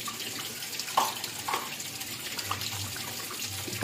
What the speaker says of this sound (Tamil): சோப் எடுத்துக்கிட்டேன், லைட்டாக தண்ணியில் காட்டிக்கிட்டேன்